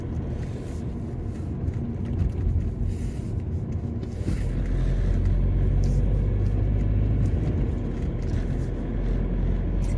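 A car drives out toward the outskirts of Torres Vedras, Portugal, with a continuous low road rumble and engine hum from inside the cabin that grows heavier partway through.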